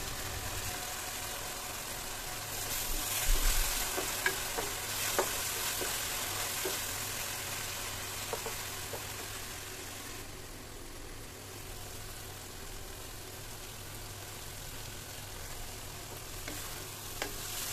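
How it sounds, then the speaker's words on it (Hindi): Tomatoes with ketchup sauce and oil cooking in a pan, stirred with a ladle: a steady soft sizzle throughout with occasional light scrapes and clinks, fairly quiet and close. "कुछ सेकंड कड़छी को ऐसे चलाने के बाद इस तरह से पक गए हैं टमाटर"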